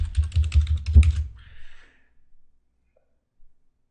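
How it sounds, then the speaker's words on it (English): Keys rattle in a quick burst of typing on a computer keyboard, then stop, leaving near silence with only a faint breath or two. "Let's type in the host address to the server we wish to connect to."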